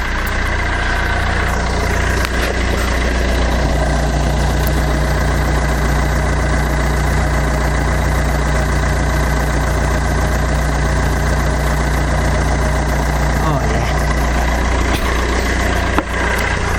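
A Fiat Doblo engine idles with its exhaust replaced, a loud, steady low rumble with a faint rhythmic pulse that runs unbroken throughout, close to the vehicle.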